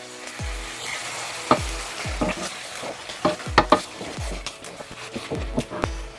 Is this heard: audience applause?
no